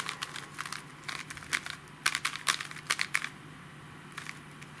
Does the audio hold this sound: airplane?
no